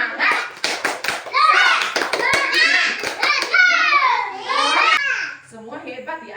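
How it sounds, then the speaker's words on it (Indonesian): A classroom of children chants the Indonesian 'tepuk semangat' clapping routine, sharp rhythmic hand claps punctuating loud overlapping young voices throughout. "Tepuk semangat."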